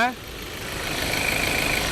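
A Mazda BT-50 Pro 2.2-litre turbo diesel pickup engine, 150 horsepower, idles steadily with a low, rumbling drone and a faint high whine creeping in, after a brief voice at the start.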